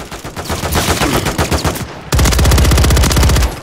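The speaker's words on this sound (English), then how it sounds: "what is with the recoil with this gun?" Rapid automatic gunfire in Call of Duty Modern Warfare 3 multiplayer, loud and close, with a long sustained burst of evenly spaced shots after an earlier stretch of fire.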